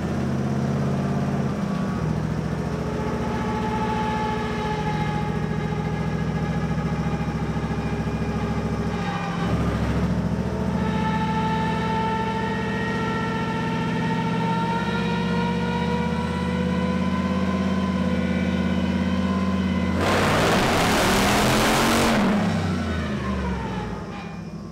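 A stock 5.3 V8 engine swapped into a Mazda revs hard on a hub dyno, a loud, sustained engine note rising in pitch through long pulls, then a sharp burst of roar near the end.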